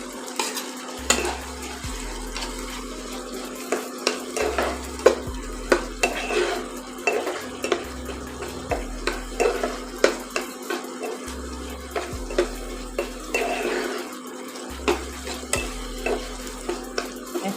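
Dry fruits are stirred into a simmering sweet tomato chutney, with a spoon scraping and knocking the pan in a steady repeating rhythm over a soft bubbling sizzle, close and clear, with no talking.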